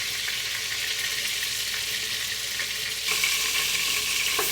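Meat for birria tacos fries in batches, a dense continuous sizzle close to the pan that grows a little louder partway through, without any voices.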